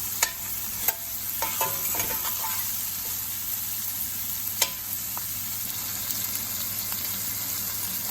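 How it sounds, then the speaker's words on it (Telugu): Onions and curry leaves fry in a pan with a steady close sizzle, punctuated early on by several sharp spatula clacks and scrapes against the pan, then mostly even hissing without speech. "ఆనియన్స్ యాడ్ చేయాలి. ఆనియన్స్ ఫ్రై అవ్వాలి."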